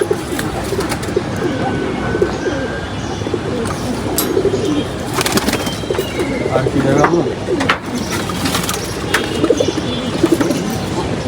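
Pigeons coo in a loft, soft repeated throaty calls mixed with wing flutters and rustling, close and continuous, while someone speaks over them.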